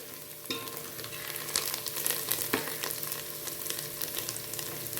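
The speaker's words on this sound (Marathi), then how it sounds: "हे छान परतून घ्यायचे आपल्याला, असं मस्त परतलं पाहिजे" Chopped onion and peanuts sautéing in a pan for a puffed-rice bhel give a dense, continuous sizzle and crackle, with occasional stirring scrapes of a spatula over a steady, close-up frying hiss.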